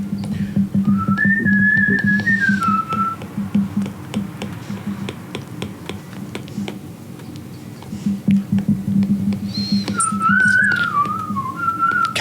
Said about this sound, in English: Cal's whistling sounds good, doesn't it?